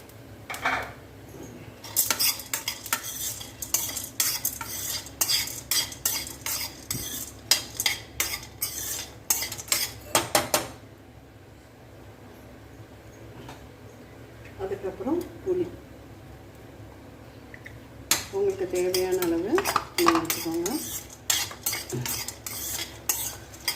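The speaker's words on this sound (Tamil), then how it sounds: "தேங்காய் நல்லா அந்த ஈரப்பதம் போகிற வரைக்கும் வதக்க கொடுக்கணும்" Grated coconut and roasted gram being sautéed in a pan for chutney, with repeated scraping and clinking of a spatula against metal in bursts, quieter stretches between, and a faint frying sizzle underneath.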